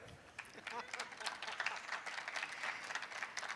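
A small audience at an Urdu literary conference in Karachi gives brief, scattered applause, a thin patter of clapping that rises and fades over a few seconds at moderate distance.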